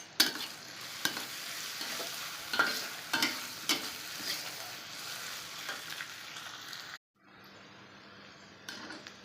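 Onions frying in a pan with mint and curry leaves, a steady close sizzle punctuated by repeated stirring scrapes, then a brief drop to quieter sizzling near the end.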